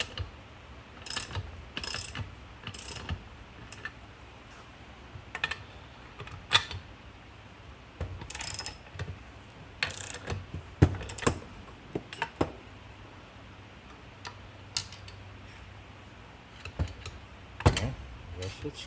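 A ratchet clicking as bolts are torqued down on a 1960 GMC truck during a restoration, irregular bursts of sharp metallic ratcheting spread across the whole stretch, with a few quiet gaps between pulls.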